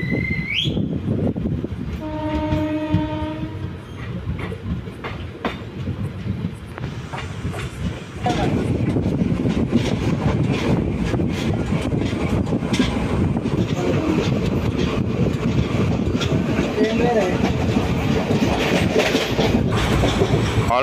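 The Hyderabad Superfast Express, running from Hyderabad Deccan to Chennai Central, gives a horn blast near the start, then a continuous rumble with rhythmic wheel clatter that grows louder and rougher midway, heard from on board.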